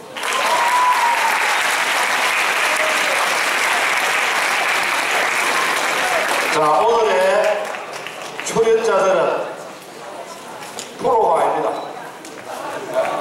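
Sustained, full audience applause at a year-end student festival performance, steady for about six seconds, then giving way to talk with scattered noise.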